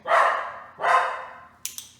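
A dog barks twice in quick succession during a roll-over training session indoors, close and loud, followed by two short sharp clicks.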